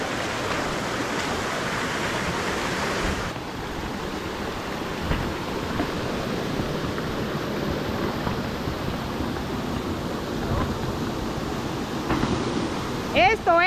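Steady, broad rushing roar of a large waterfall close by, continuous and loud throughout, with occasional voices faintly over it.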